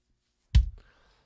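Single kick drum hit captured by inside and outside microphones blended together: a sharp click attack with a deep, short low-end thump that decays quickly, alone and close.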